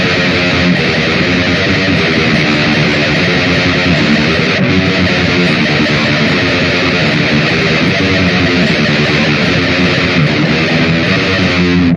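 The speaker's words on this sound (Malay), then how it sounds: "Satu lagi is tremolo picking that is unmuted." A dense, continuous wall of unmuted tremolo-picked distorted electric guitar in a death metal style drones without pause, loud and buzzing with a steady churning texture.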